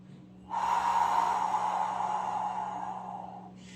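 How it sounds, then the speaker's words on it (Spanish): A deep, audible inhalation during a vocal breathing exercise, one long drawn-in breath lasting about three seconds after a short quiet start, close and breathy with no talk. "Nuevamente tomamos aire."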